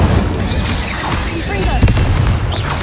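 Confringo blast spell cast in the video game Hogwarts Legacy, with loud, close booming bursts over dense rumbling combat noise that stays dense throughout.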